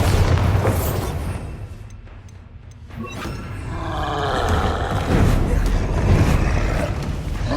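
A Bombarda spell explodes in Hogwarts Legacy with a dense, roaring boom. The rumble dips briefly, then swells again into a sustained, noisy blast with layered crackling.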